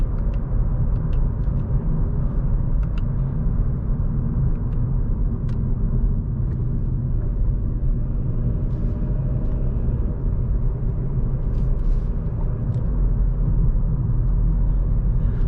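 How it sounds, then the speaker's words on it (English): A 2020 Volkswagen Golf 8 with a 2.0 TDI 150 HP diesel engine and DSG gearbox cruising on the road, a steady low rumble of engine and tyre noise heard from inside the car without a break, with no talking. "today in this video we're just gonna drive and cruise"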